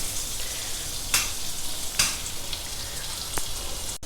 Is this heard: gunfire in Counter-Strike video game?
no